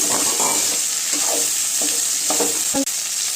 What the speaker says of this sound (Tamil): இப்போ வெண்டைக்காய் சேர்த்துக்கலாங்க. சேர்த்து நல்லா கிண்டி விட்டுருங்க.